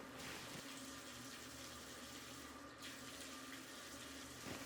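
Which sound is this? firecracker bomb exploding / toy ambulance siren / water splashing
water splashing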